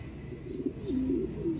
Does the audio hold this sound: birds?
yes